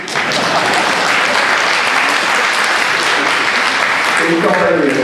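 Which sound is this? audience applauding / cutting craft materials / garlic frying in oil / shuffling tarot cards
audience applauding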